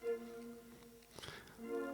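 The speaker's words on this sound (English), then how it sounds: "I'm just playing one solo horn and 2 trumpets" One solo horn and two trumpets play closely matched sustained lines in a repetitive R&B loop, quiet and smooth, with a brief brighter burst midway before the held brass notes return.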